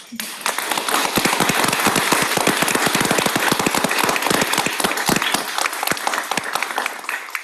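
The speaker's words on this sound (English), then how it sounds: "join me in one last round of applause for our graduates" A crowd at a guide dog graduation ceremony on a Yorktown campus breaks into vigorous clapping, dense crisp claps building quickly and sustained for several seconds before tapering off.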